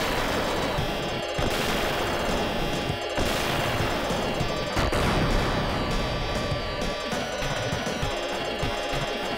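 Dense, continuous gunfire from a weapon in the Sega Mega Drive game Gunstar Heroes, rapid-fire shots with crashing explosions layered throughout, loud and unbroken with no talking.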